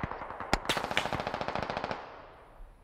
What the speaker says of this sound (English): They're getting shot up from across here.